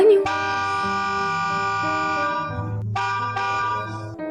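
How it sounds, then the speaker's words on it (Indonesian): A car horn blares in long, sustained honks, briefly cutting out and then sounding again, loud and close. "mendengar klakson mobil"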